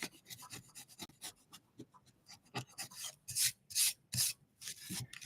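Paint being scraped off the edges of a wooden Easter craft, a quiet, close series of short rasping strokes, irregular at first and then stronger, with longer scrapes later on and no voices.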